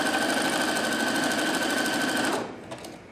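A Husqvarna Viking Platinum Plus sewing and embroidery machine stitches in a fast, steady mechanical rattle up close, then abruptly stops, leaving a couple of faint clicks.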